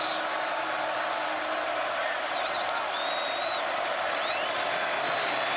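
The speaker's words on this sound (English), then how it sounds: "Crowd trying to help out their defense." A college football stadium crowd at Alabama vs Ole Miss in 2022 roars steadily to help its defense, with faint whistles riding over a continuous, distant wash of noise.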